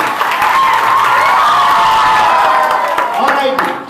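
Students at a school quiz at FJ Grammar School burst into loud, sustained clapping and applause with some cheering, a dense crowd sound lasting several seconds before tapering off.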